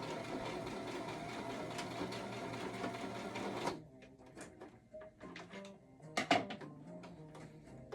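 A sewing machine stitching along the edge of a recycled towel runs in a steady rapid whir, then stops; a few short, sparse bursts of stitching and handling noise follow.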